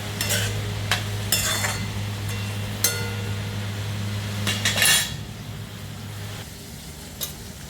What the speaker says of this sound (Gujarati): નમક એડ કર્યા બાદ આપણે થોડું હલાવી મિક્સ કરી લઈએ.